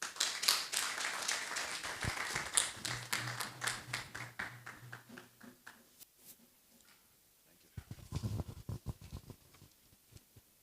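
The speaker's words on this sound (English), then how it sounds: "A round of applause for him." Scattered applause from a conference audience on academic freedom in Africa, soft clapping that thins out midway and briefly picks up again near the end, with a voice speaking over part of it.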